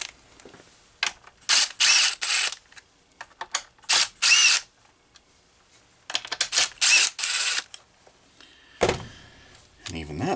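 A power driver backs screws out of the bottom strap of a Homelite 330 chainsaw, sounding as repeated short, loud whirring bursts close by, separated by pauses and a clunk of parts.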